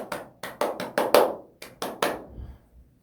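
A handful of sharp, scattered claps from a church congregation ring out in short bursts, loud and close, with uneven rhythm before fading to quiet.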